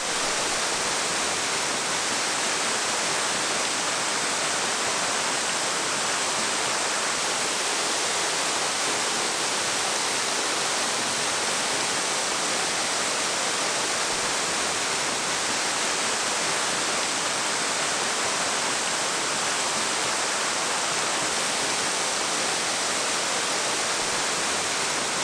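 A waterfall at Red River Gorge pours into a pool in winter, giving a dense, unbroken roar of rushing water that holds steady and loud throughout with no voices.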